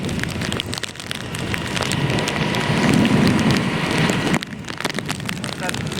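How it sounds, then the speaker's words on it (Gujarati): Steady heavy rain in Junagadh pours down in a dense, continuous hiss, close and loud, with a brief drop in intensity near the end. "ધીમો પડી ગયો ને વરસાદ ધીમો પડી ગયો."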